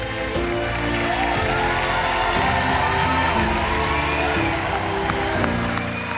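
Family and friends cheer and clap in the MasterChef Junior kitchen at the finale, a steady loud mix of applause and whoops filling the room without pause.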